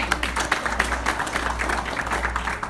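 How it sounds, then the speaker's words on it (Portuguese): Congregation applause during a church sermon, a steady patter of many hands clapping for the length of the passage at moderate level, with a low hum underneath. "Quem pode aplaudir ao Senhor por isso?"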